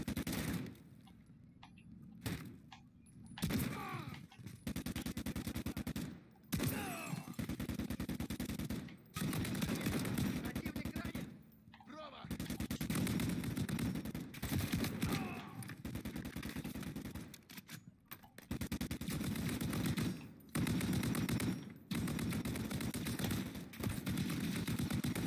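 Sustained automatic gunfire and bursts of shooting in the video game Call of Duty: Modern Warfare 3, loud and dense with brief pauses between volleys, with a faint voice or two underneath.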